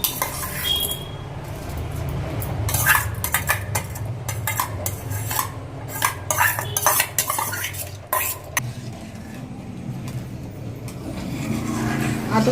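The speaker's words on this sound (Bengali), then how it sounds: "এবার আতপ চালটা দিয়ে দেওয়ার পরে একটু ঘন ঘন নাড়তে হবে, নইলে পরে তলা থেকে আতপ চালটা লেগে যাবে।" Atap rice being stirred in a pot of boiling milk for payesh over a low gas flame in a village kitchen, with repeated scraping clinks of a spoon against the metal pot and a steady bubbling simmer underneath.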